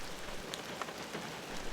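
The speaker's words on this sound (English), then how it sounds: "pretty soon, it was raining. It was coming down pretty good" Heavy rain pours down in a creek valley during a thunderstorm, a dense, constant hiss of drops hitting the ground with no pauses and a few faint separate splatters, steady and fairly loud.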